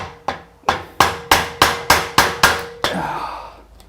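A hammer strikes a chisel to chop out the waste between dovetails in wood, giving eight sharp, evenly spaced blows up close, followed by a short scraping rattle.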